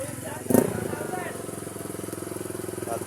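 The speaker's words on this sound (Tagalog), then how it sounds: "At ito, isang tricycle at isang single motor." A tricycle and a single motorcycle idle nearby, a steady rhythmic engine putter throughout with a brief louder burst early on, heard under outdoor talk.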